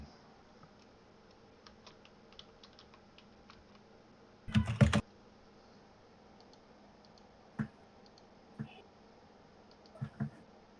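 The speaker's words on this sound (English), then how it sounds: "I'm just typing this dude's name" Scattered clicks and a short burst of keystrokes come from a computer keyboard being typed on, faint and intermittent against a quiet background.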